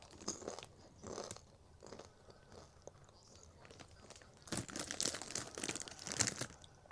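Close, quiet crunching and chewing of a chili caramel candy, with crinkly bites that come in irregular bursts and grow busier and louder toward the end.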